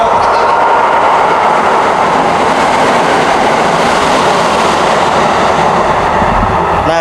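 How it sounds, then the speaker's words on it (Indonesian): Express train in Japan rushing through a station without stopping, a loud, continuous rumble and rail clatter that holds steady for several seconds with no voices. "kalau misalnya dia yang kayak gitu, itu nggak berhenti di stasiun ini, berarti itu ekspres."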